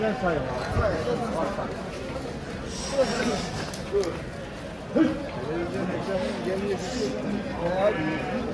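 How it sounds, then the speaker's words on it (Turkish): Lambs bleat now and then amid a noisy crowd of people talking and general bustle at the Şarkışla livestock market in Turkey. "Evet, güzel de kuzular."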